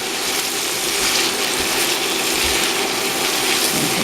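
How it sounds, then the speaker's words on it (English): Onions caramelizing in a skillet hiss steadily while being stirred, with soft scraping and clicking textures under a constant close sizzle. "Give it a good stir around."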